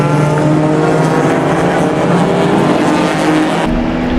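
Race cars on a closed-wheel oval at Mission Raceway, including a V8 Grand Prix and a Porsche, roar loudly and continuously as they run in a pack, engines droning close by with no pauses.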